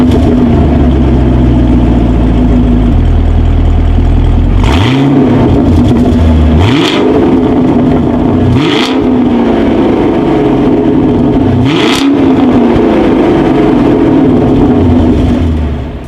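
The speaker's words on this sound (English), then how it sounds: "As always, here is that exhaust clip." A 2019 Chevrolet Camaro SS V8 exhaust revs hard several times in sharp bursts over a steady rumbling idle, loud and close, each blip rising and falling quickly.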